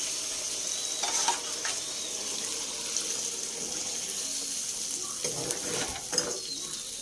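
Water poured into a pan of sizzling broiler chicken meat, a continuous hissing sizzle with a running-water wash and occasional stirring clinks, close and moderately quiet.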